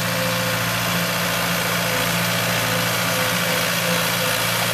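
A 2006 Caterpillar 236B skid steer's diesel engine runs at a steady idle, loud and close, with a constant low drone and no talk over it.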